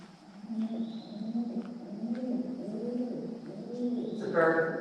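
A pigeon-like bird coos repeatedly inside the Rock House rock cave at Hocking Hills, Ohio, with low, steady, echoing tones continuing throughout and a brighter sound near the end.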